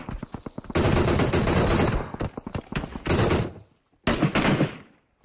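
Automatic rifle fire in a team shooter video game match: loud, close bursts of rapid shots, one long sustained volley, then a short pause and another heavy burst.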